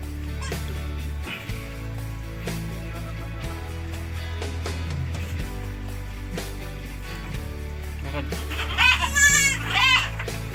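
Goats, including a weak kid, bleat in short, wavering cries toward the end, over steady low background music and some distant voices.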